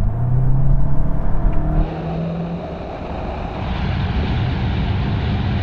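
Several VW Golf hatchbacks, GTI, Clubsport and diesel GTD, launch together on kick-down in a drag race, a loud engine roar with rising revs that shifts into a steadier, lower drone partway through.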